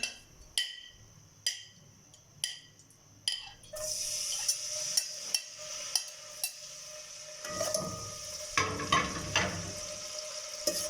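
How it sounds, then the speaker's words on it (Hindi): A few sharp taps precede a sudden rush of sizzling as garlic hits hot oil, followed by steady frying with intermittent stirring clicks. "ऑयल हमारा हल्का सा गर्म हो चुका है। अब हम इसमें लहसुन डालेंगे।"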